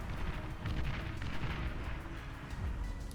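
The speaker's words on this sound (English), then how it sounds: "desperately trying to run it back just as the missiles start to land" Missiles slam into battleships in the strategy game Beyond All Reason, a dense, continuous barrage of deep booming impacts and rumbling blasts layered over one another without pause.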